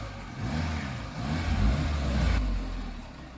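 A new car rolls in through a home gate with a low, moderate engine drone that swells gently and holds steady, close by and fairly quiet, with no voices over it.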